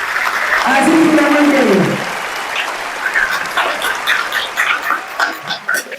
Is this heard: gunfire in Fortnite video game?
no